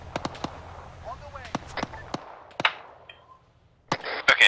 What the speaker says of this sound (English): Taking shots from the south.